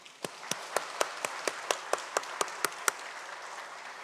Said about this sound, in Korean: 그동안 우리 수고 많으셨다고 우리 박수해 주시기 바랍니다